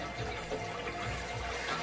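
Water from a bucket with holes cut in the bottom and sides pours steadily into a fish tank, a continuous close splashing rush with no voices.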